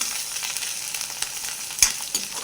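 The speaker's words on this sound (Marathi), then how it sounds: "या तेलामध्ये मस्त कोथिंबीर टाकून घ्यायची" Fresh coriander frying in hot oil in a kadai, giving a continuous close hiss and crackle with one sharp spatter pop partway through.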